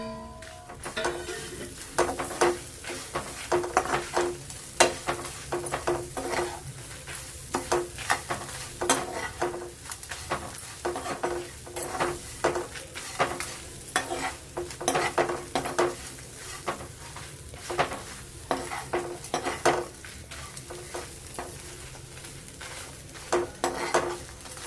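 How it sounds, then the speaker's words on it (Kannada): Fresh grated coconut and turmeric frying in a pan, stirred with a spatula in steady repeated scrapes and clinks over a continuous soft sizzle, close up and without talking. "ಚೆನ್ನಾಗಿ ಫ್ರೈ ಆಗಿದೆ"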